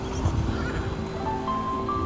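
An Icelandic horse whinnies at an outdoor resting place, a loud, close, rising neigh over a background of movement and stamping hooves.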